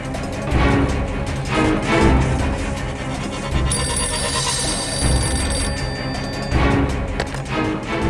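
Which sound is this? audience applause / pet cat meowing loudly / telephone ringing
telephone ringing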